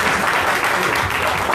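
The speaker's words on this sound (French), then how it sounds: "Je suis plus applaudi que lui," Short burst of steady, dense audience applause at a French public debate on free-trade agreements, food and agriculture, loud and continuous throughout with no talk over it.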